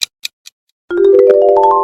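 Three quick, bright clicks are followed by a short pause, then a cheerful rising synth jingle plays loudly: the Universal Kids TV channel logo sound. No one speaks.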